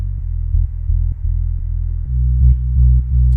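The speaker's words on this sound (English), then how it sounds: "There's the sub, which is just pure bass." A pure sub bass synth from a progressive house track built in FL Studio pulses in a steady rhythm, a deep, smooth low hum that shifts to a lower note partway through, with nothing else playing.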